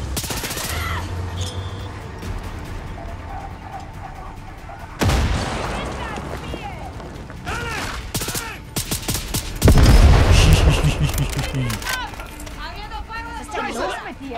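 Gunfire and explosions in the video game Far Cry 6 during a fight in a burning area, loud bursts of shots and booms with sudden heavy blasts, while a person speaks German over the action.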